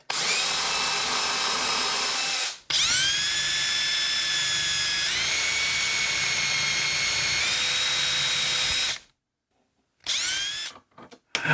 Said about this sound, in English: I'll drill from both sides just to keep the edges clean.